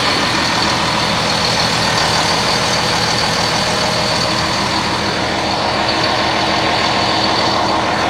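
A MAN RR4 bus with a 480 hp engine runs loud and close, a dense steady diesel rumble with broadband roar holding evenly throughout, no voices over it.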